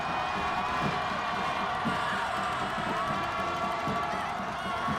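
A high school football crowd at Berwick vs Dallas roars and cheers in a broad, steady wash from the stands, with scattered shouts rising over a constant murmur the whole time.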